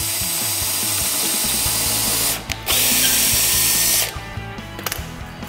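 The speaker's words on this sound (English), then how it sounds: "I'm gonna pre-drill these just because it's" Power drill pre-drilling 1x boards for a workbench build, loud whirring bursts with brief pauses between them and faint clicks toward the end.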